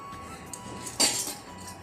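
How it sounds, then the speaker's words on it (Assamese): Copper and bell-metal drinking glasses clink together as gifts are unpacked, a single bright metallic ring near the middle with a few faint taps and handling sounds around it, close and fairly quiet. "তাৰপাছত উঠিছে গ্লাছ 4টা, দুটা হৈছে তামৰ আৰু দুটা হৈছে এইফালে কাঁহৰ।"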